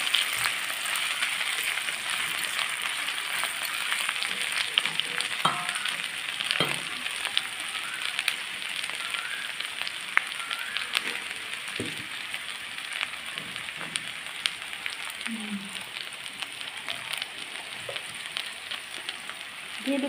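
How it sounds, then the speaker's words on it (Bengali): Sarpunti fish frying in hot oil with a paste, a steady broad sizzle throughout with occasional soft pops and scrapes, fairly close and alone. "দিয়ে আমি একটু সময় নিয়ে ভালোভাবে লাল লাল করে ভেজে নেব"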